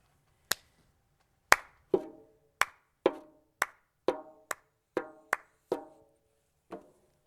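Sharp, separate hand claps ring out one at a time at an uneven pace, about ten of them over several seconds, each crisp and close with a short decay and nothing else in between.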